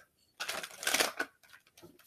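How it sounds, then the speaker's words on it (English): Tarot cards being shuffled by hand, a busy riffling burst of papery flicks lasting about a second, then softer, scattered card rustles. The sound is close and moderately quiet, with no voices. "Oh, it feels so good shuffling these cards for some reason today."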